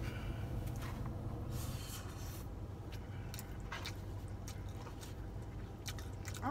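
Someone chewing a mouthful of Chipotle steak close to the mic, with soft, faint, repeated squishy bites and mastication over a low background hum, and no talking.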